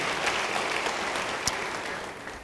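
Audience at a church service applauds, a steady, moderately faint wash of clapping that holds evenly for a couple of seconds with one sharper clap standing out.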